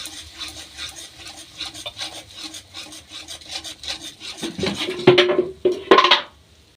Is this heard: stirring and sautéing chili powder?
yes